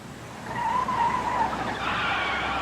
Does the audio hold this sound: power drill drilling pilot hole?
no